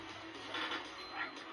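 Worm dogs in the SpongeBob SquarePants movie video game let out a couple of faint, short barks and yips at low volume amid quiet game sound.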